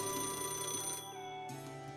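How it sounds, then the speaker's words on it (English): Phone ringtone in the video game Fate/Grand Order, a bright electronic ring that plays for about a second, pauses briefly, then starts again, clear and alone without voices. "Oh, another phone call."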